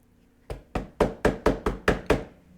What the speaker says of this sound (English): So I get a knock on the door.